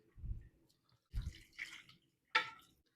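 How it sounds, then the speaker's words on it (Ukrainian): Salt brine for fermented stuffed eggplants pours onto the eggplants in a container, close by and quiet, in a few short separate splashes and gurgles with silence between them. "Сіль розчинилася і виливаю наверх баклажанів."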